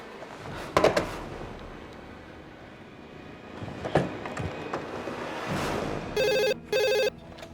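A telephone rings in a tense crime drama scene: a few sharp, loud electronic bursts near the end, following scattered thuds and movement, with no talk over it.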